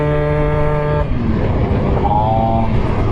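A moped engine runs steadily while riding through slow traffic, a continuous loud drone with a shifting pitch and a brief higher tone near the end.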